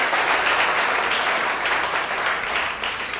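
A church congregation applauding for the Lord during a Sunday service, a dense, steady burst of many hands clapping together, loud and sustained throughout without pause.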